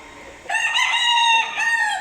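A rooster, a pet fighting cock, crows loudly and close by, a single sustained call that starts abruptly and holds with a strong harmonic tone before tailing off.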